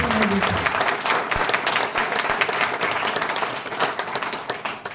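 A crowd at a corporate gathering claps loudly in a full, sustained burst of applause that slowly thins over five seconds, with a faint voice at the start.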